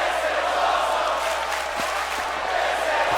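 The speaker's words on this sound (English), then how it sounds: "The crowd chanting, this is awesome" A wrestling video game crowd chants and cheers in a steady, dense wash of noise, with no clear voices standing out.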